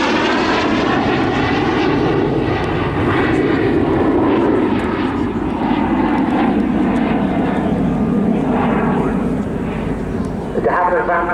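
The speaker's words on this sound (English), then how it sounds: "The Havilland Vampire then, the FB52, a British jet fighter" A de Havilland Vampire FB52 British jet fighter flies at an airshow, giving a loud, continuous engine roar that holds steady and close for the whole stretch, with a voice talking over it.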